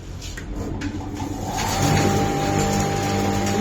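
A pulse processing machine that runs off a regulator starts up, its motor hum building steadily and growing louder after about two seconds into an even mechanical drone.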